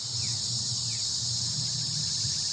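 Steady, dense cicada buzzing fills the air in St. Louis, a continuous high-pitched drone with a faint pulsing underneath, loud and unbroken throughout.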